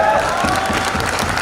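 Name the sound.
audience clapping at a comedy poetry recital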